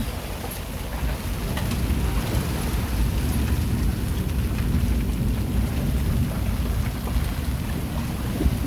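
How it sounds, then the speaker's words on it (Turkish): Steady, dense rain roars continuously, with a low rumble underneath, like a downpour heard from outdoors or under shelter aboard a sailboat, with no voices. "Bir yağmur daha geliyor"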